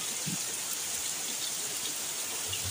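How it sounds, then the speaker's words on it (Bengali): Heavy rain falls in a steady, even hiss with faint scattered drop impacts. It is fairly quiet and distant, without voices. "তার মধ্যেই কি জোর বৃষ্টি হচ্ছে।"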